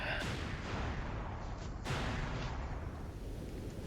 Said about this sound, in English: Those explosions sound extremely compressed and low quality compared to what I remember on the GameCube.